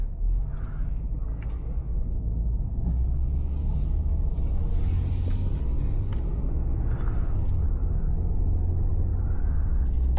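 A 2021 RAM 1500 Classic pickup rolls along the road, heard from inside as a steady low rumble of engine and tire noise with faint intermittent ticks and rattles above it, no voices.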